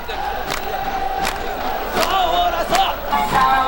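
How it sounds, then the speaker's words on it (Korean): Baseball stadium crowd in Jeonju cheering through a Ssangbangwool Raiders versus Samsung Lions game, a steady roar with repeated loud swells and shouts. "우리 관중들의 환호 소리가 운동장을 가득 메웠습니다"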